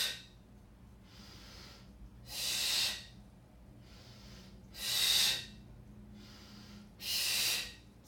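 A person breathes during an oblique twist exercise. Three strong, close exhales through the mouth come at even intervals, each followed by a fainter inhale, and there is no talk.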